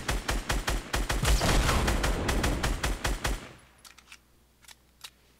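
Rapid, loud automatic gunfire in Fortnite Battle Royale, a steady rhythmic burst of about twenty shots that suddenly stops and leaves a few fainter distant shots over quiet background.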